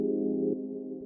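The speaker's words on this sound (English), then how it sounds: "And then I have that going into this bandpass filter, which I made with EQ8. That sounds like this." Synth tone run through a bandpass filter built with Ableton's EQ8, lo-fi processing, low lows and high highs removed: a steady mid-range sustained note, fairly loud, dipping slightly halfway and holding alone with no talk.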